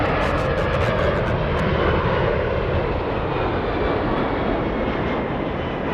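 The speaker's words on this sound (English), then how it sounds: "Emirates flying at 144 knots. Slowing down to 141." An Emirates jet airliner on landing approach at Los Angeles airport gives a loud, steady, broadband engine roar that holds evenly throughout with no pauses.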